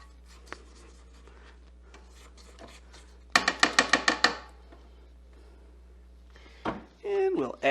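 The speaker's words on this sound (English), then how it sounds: "And we'll give it a scrape down." A spatula scraping down a mixing bowl of banana bread batter: a quick run of about eight sharp scrapes and knocks in a row, with softer scratchy handling before and a short bump and voice near the end.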